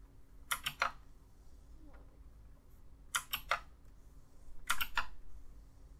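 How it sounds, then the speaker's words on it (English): Clacky keyboard typing in three short bursts of several keystrokes each, close and fairly loud against a quiet background. "Sorry about how loud my keyboard is. It's like a tape reader keyboard."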